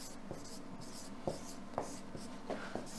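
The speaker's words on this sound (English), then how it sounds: "So I'll write it down." A pen writes by hand on paper, giving soft, close scratching strokes with a few sharper taps as the tip lifts and lands, steady and quiet with no one talking.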